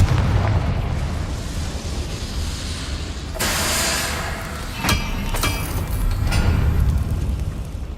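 A fire spell explodes in the wizarding action game Hogwarts Legacy with a loud booming burst and crackling blast, set against rumbling game noise and followed by sharper pops.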